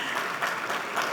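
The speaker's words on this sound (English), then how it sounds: "Please, a round of applause for them." Applause from the audience at a Ghana energy conference honouring revenue authority officials, a steady wash of many hands clapping at moderate distance, continuous and fairly soft throughout the short burst.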